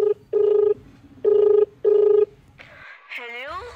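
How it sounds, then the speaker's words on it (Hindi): A telephone keypad dialing a call to a school: three loud, sustained tones spaced evenly, followed by a brief warbling ring signal. "मैं भी पन्नू के स्कूल में फोन करके पता करता हूँ"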